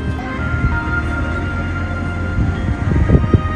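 A model tram runs through the Madurodam miniature park, giving a steady, close rumble and whir on its track with a brief rise in clatter near the end. No one speaks.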